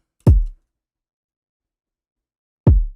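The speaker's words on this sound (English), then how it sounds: "So the first kick sounds like this." Two isolated, deep, punchy kick drum hits from an Afrobeat beat built in FL Studio, each with a quick attack and short booming decay, separated by a long silence.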